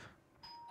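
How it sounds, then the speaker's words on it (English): A doorbell rings faintly in the background, a short electronic tone that sounds once near the end, set within quiet room noise. "you might have heard my doorbell ring"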